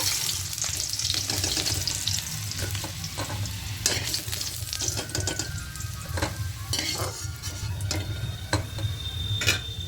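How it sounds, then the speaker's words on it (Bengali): Potato pieces frying in oil for potato biryani give a continuous close sizzle, broken by frequent sharp clicks and taps of a spatula stirring against the pan. "আলুগুলো হালকা লাল করে ভাজা করে তুলে নেব"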